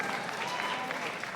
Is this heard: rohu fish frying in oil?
no